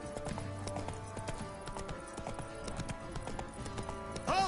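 Horse hooves clip-clop steadily along a path in The Witcher 3 game, a close, regular rhythm over game music, with a brief louder bump near the end.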